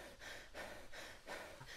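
A video game character in Heat Homestead pants from carrying too much, giving four quiet, rhythmic breaths in and out, close and breathy with no talking.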